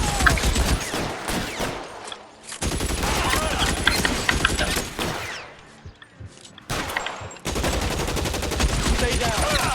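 Rapid gunfire from a shootout in the L.A. Noire video game, dense bursts of shots crackling loud and close, broken by two short lulls, with game voices mixed in.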